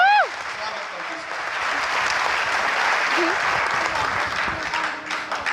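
Loud applause from a seated audience at a sports prize-distribution ceremony, swelling after a brief spoken announcement and holding as a dense, steady wash of clapping to the end.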